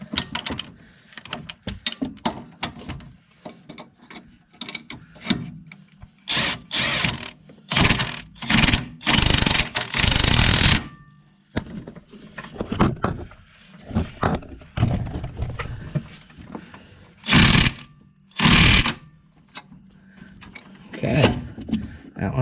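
Ratchet and wrench work tightening strut bolts on a Nissan Sentra front shock strut assembly, heard as bursts of rapid mechanical clicking and metal clatter with pauses between, close by, with some talk in between.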